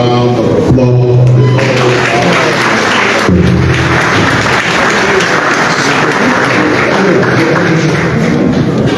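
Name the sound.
audience applause at investment conference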